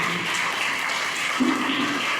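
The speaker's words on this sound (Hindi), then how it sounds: "आप एक जोरदार ताली करें" An audience at a coaching-session closing ceremony claps loudly and continuously, a dense steady patter of applause filling the whole moment.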